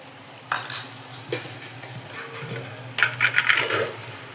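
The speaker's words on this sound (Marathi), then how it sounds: "हा मसाला चांगला परतवून घ्यायचा, फ्राय करून घ्यायचा" Masala with red chili powder and turmeric stirred and fried in a hot pan gives a steady sizzle, with scraping and clinking spoon strokes coming in a quick cluster toward the end.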